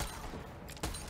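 Pistol gunfire in the video game Borderlands 3, a dense, steady barrage of shots with one sharper burst near the end, close and loud throughout.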